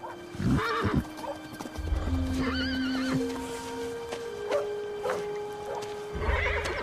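A horse neighs loudly up close, whinnying in drawn-out rising and falling calls, with hooves thudding and clopping in between.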